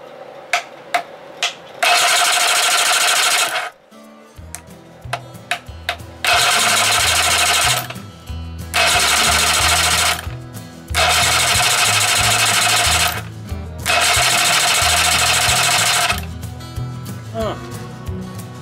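A Johnson 20 hp outboard motor runs after its solenoid is whacked, with a low, uneven engine putter underneath and repeated loud, harsh rattling bursts of a few seconds each coming and going close by.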